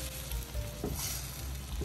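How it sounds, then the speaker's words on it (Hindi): Chickpeas fry with yogurt and spices in a pan, giving a steady close sizzle and bubbling with light stirring scrapes and no voices. "दही और मसालों के साथ हमने अच्छी तरह भून लिया है चनों को"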